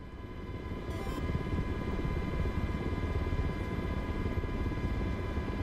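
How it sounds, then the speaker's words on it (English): Miltech MH-60S helicopter taxiing on the ground in Microsoft Flight Simulator 2024, a steady loud rotor and turbine drone with a constant low rumble and a sustained whine, no talk. "Taxiing in a heli feels weird"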